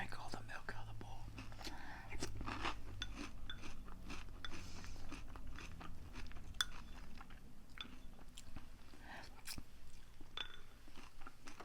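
Someone eats crunchy Boo Berry cereal with milk up close, with steady soft crunching and chewing throughout the evening. The chewing runs under a continuous whispered voice.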